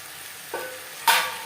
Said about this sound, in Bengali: লবণ হলুদ বিনসের সাথে বেশ ভালো করে মিক্স করে দেবো।